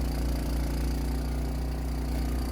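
A Honda snow blower engine runs steadily at a constant loud drone while chewing through heavy, wet snow, with no change in pitch and no voices over it.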